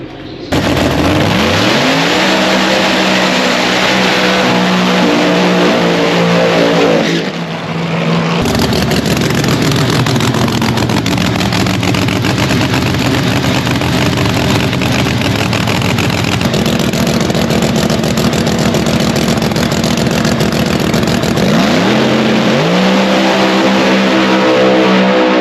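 Race car engine on a test pass, loud and close, revving up through gears with rising whines, a brief lift, then sustained high-rpm roar before shifting down again, no talk over it.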